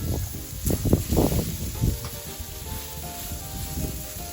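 Turkey burger patties sizzle on a hot grill with a steady hiss, broken by several louder crackles and pops as they are pressed down.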